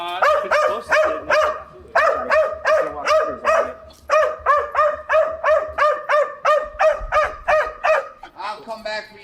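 A dog barks repeatedly in a fast, steady run of loud, close barks with a few whimpering yips near the end.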